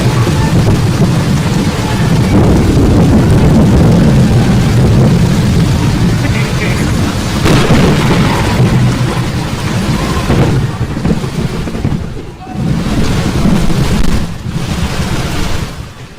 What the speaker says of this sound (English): he smote the ground, and hail fell through all the land.